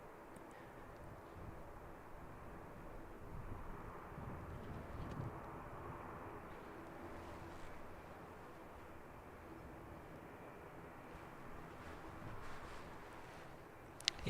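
An ATR turboprop aircraft starting up at Christchurch Airport, heard as a faint, distant, steady engine drone with a low rumble, no speech.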